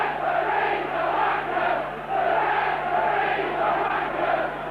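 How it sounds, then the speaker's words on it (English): A rugby league crowd at a Leeds versus Swinton match jeers and roars at a referee's penalty decision, a loud sustained wall of voices that swells and dips slightly without a break. "You can hear what the crowd think of that one."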